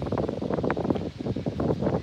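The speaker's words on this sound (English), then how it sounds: "I mean, after all, it's the Oregon coast. Of course, it's windy." Wind blusters across a microphone on the Oregon coast, a close, fluttering rumble with uneven gusts.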